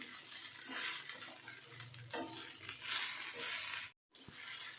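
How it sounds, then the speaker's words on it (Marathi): Sabudana khichdi being sautéed in a pan over medium heat, with a continuous close scraping stir and light sizzle, some spoon clinks, and a brief silent gap near the end. "आता मीडियम गॅसवर पाच मिनटं मी परतून घेते छान काबू म्हणजे तिकडे छान शिजेल"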